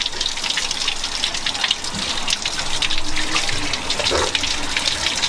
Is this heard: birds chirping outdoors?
no